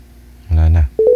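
Telephone keypad tones beep loudly while a call is placed, with a longer low tone followed by a short burst of dialing beeps.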